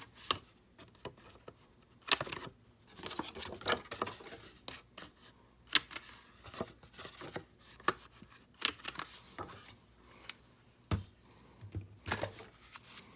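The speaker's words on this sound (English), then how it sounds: "I'm going to use my crocodile on the 1/2 inch and round these 2 corners" Crocodile corner rounder punch set to a half-inch radius, rounding corners on paper for a 6x6 mini album: a series of sharp, close clicks and snaps spaced irregularly, with small handling rustles between them.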